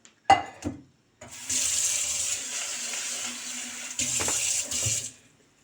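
Chickpeas rinsed under running kitchen tap water, a steady close rush of water with brief clinks and handling sounds before and a short pause midway.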